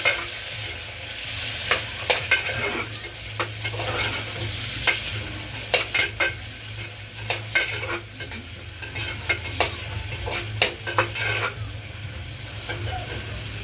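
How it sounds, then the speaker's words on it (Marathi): Onion sizzles and fries in a pan, a steady close crackle broken by repeated sharp scrapes and taps as it is stirred, with no talking. "कांदा थोडासा तळून घेतला"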